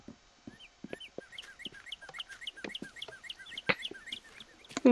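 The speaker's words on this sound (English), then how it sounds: "Hey, look, that bird's still there." A Minecraft bird chirps in quick, repeated high tweets, a steady run of small calls over a quiet background, with a few faint clicks mixed in.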